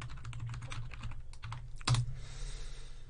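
Close, rapid clicking keystrokes type a password on a computer keyboard. A single louder key press comes near the end, followed by quiet room noise.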